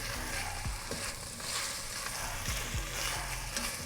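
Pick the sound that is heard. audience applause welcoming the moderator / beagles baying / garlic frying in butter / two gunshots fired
garlic frying in butter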